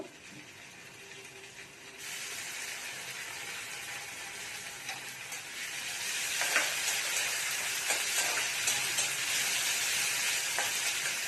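Ginger and garlic sizzle in a hot pan, a steady frying hiss that jumps louder twice, with a few faint clinks of a utensil.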